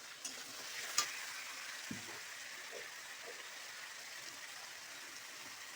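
A spoonful of ginger, onion and garlic paste fries in a pan for bottle gourd with prawns, producing a faint, even sizzle with a few soft knocks early on.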